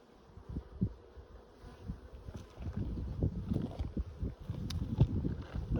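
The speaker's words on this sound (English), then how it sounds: "There's a good amount of bees." Honey bees crowd an opened hive with a queen excluder in place, their buzzing a close, uneven drone that swells in bursts and grows louder through the second half.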